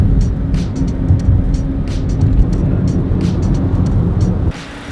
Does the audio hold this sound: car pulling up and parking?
yes